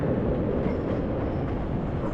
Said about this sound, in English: what you'll hear going over me just in a second is the CTA train here in Chicago